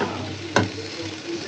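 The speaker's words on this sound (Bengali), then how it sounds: "কাঁচকলাটা খুব সুন্দর করে ভাজা করবো" Green plantain frying in a pan gives a steady, close sizzle, with one brief sharp scrape or stir partway through.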